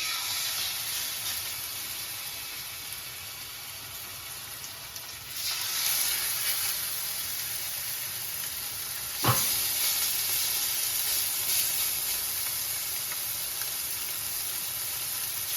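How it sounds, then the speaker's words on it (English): A steady, fairly quiet sizzle of chicken frying in a hot pan, with a brief sharper hiss partway through; no talking. "Should hear a sizzle."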